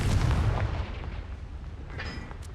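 In the game Hogwarts Legacy, a Confringo fire-blast spell detonates in a heavy rumbling boom at the start, which fades into a low lingering roar before a brief crackling flicker near the end.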